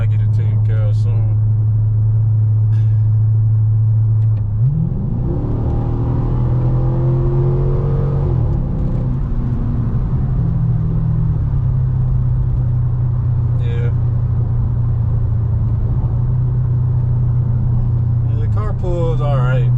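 A stock Dodge Charger RT with a muffler delete revs up hard partway through, then settles into a loud, steady low exhaust drone. Brief speech appears at the start and end.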